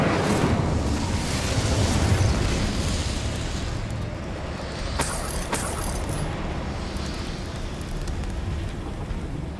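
The Incendio fire spell cast in Hogwarts Legacy, a sustained loud whooshing, roaring burst of flame with crackling, followed by a few sharp magical pops and zings partway through.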